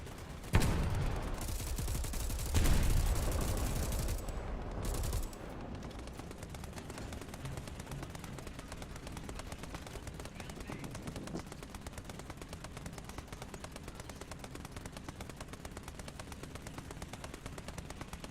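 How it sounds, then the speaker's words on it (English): Video-game tracer gunfire rattles in long, rapid automatic bursts. It is loudest and heaviest in the first few seconds, then settles into a steady, sustained stream of fire with no talk over it. "You have to continue your tracer fire."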